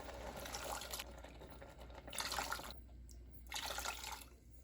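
Water poured into a pot of cooking rice for Persian saffron rice pudding (sholeh zard), heard as soft splashing pours in three brief surges, faint and close with no speech.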